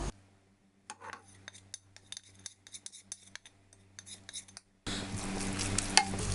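A spatula clinks and scrapes in a pan with beetroot for pachadi, then a ground paste goes in and a loud, steady sizzle takes over.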